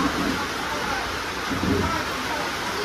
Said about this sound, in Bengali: আর এই দিকে যে বৃষ্টিটা এনারাও দেখলাম যে ঢোকার সঙ্গে সঙ্গে উপভোগ করছে